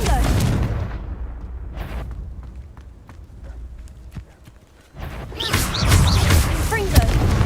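Confringo fire-spell blasts in the video game Hogwarts Legacy: loud, broad bursts at the start, a quieter stretch, then a sustained crackling, roaring burst of explosions through the second half.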